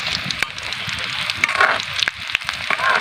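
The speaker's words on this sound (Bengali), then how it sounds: "আমি এখন চপগুলা কড়াইতে ছেড়ে দিব" Mirror carp fish chops frying in oil in a wok, a continuous bright sizzle dotted with crackling pops and light utensil taps, close and fairly loud.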